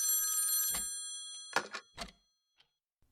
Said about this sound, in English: I woke with a start to the ringing of the phone.